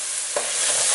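Chopped tomato sizzles and fries in a pan while being stirred for egg pulao, a steady hiss with a brief scrape of the spoon.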